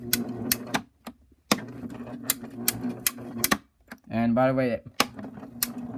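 A Royal Sovereign CO-1000 coin sorter runs with sharp, regular mechanical clicks in a quick steady rhythm, close and distinct. Someone talks briefly between the clicks.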